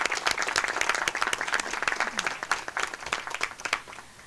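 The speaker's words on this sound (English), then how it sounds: "we could just give you guys a round of applause" Applause from an audience honoring the students who cooked the food, steady dense clapping at moderate distance lasting several seconds, with a few louder individual claps near the end.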